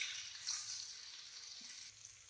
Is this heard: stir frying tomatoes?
yes